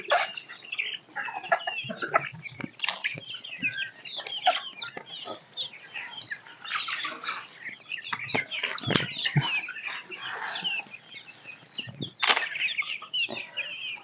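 Backyard chickens cluck busily while being fed, with overlapping close calls and short bursts of wing flapping throughout.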